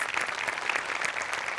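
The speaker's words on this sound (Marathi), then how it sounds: "ह्याच्यासाठी तुमच्यासाठी टाळ्या वाजल्या पाहिजे" Brief, even applause from the audience of a Marathi comedy sketch show, moderately loud and continuous with no voices over it.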